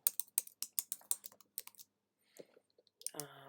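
Quick bursts of keystrokes on a computer keyboard, close and crisp, then a pause with a few faint clicks before a short sound at the end.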